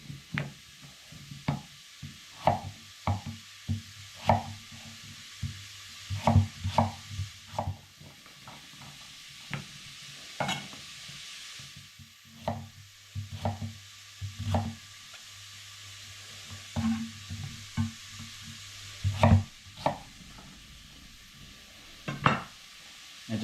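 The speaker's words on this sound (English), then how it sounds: "so I'll just chop this up roughly into smaller pieces" Kitchen knife chopping a pumpkin roughly into smaller pieces on a board, with sharp, irregularly spaced knocks and thuds, close and clear with no speech.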